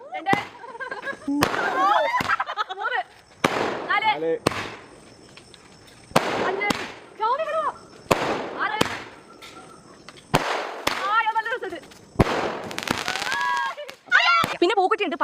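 Firecrackers and fireworks set off at a home celebration burst in a rapid series of sharp, loud cracks and pops, with crackling and whistling tails between them. People talk and shout over the bursts throughout.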